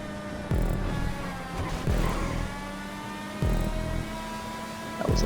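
Open-wheel race car engine in GTA Online, a continuous high-pitched whine that climbs through the revs, with abrupt drops at each gear shift, loud and close, no talking.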